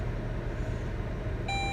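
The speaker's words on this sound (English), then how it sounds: "Why is it beep like that?" Electronic beeping begins near the end as a steady, clear tone cutting over a constant low rumble of traffic or engine noise, with no talking.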